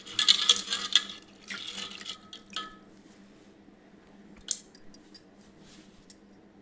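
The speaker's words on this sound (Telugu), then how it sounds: "ఇప్పుడు కడిగిన పప్పును కుక్కర్లో వేసుకుందాం" Washed chana dal and toor dal are tipped into a pressure cooker, giving a quick wet patter and clatter of grains and droplets at the start, then a few scattered light knocks and drips over quiet background.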